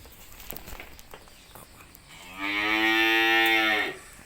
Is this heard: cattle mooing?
yes